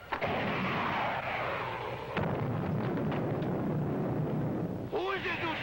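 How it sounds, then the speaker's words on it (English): Missile launch and explosion effects from a 1954 science-fiction TV serial, a sustained loud roaring rush with sharp bursts partway through, ending in a quick warbling electronic tone. "Prepare to fire two missiles on a five count, Biff."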